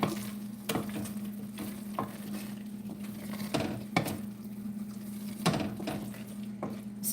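Pumpkin pie filling cooks down in a pan with a steady low bubbling simmer, punctuated by recurring scrapes and taps of a utensil stirring against the pan, close and moderately quiet with no talk.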